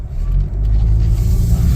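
A 2021 Nissan Sentra SV driving, a loud steady low engine and road rumble from inside the cabin, with no voices.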